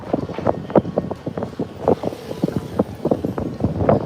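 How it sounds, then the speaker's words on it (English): Gusty wind in the Philippines buffets the microphone in irregular bursts, rumbling and flapping close up throughout. "sorry about the wind because it's windy."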